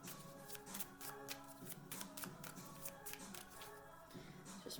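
A deck of cards is shuffled by hand in close, quiet, repeated riffling bursts and soft taps, with brief pauses between passes.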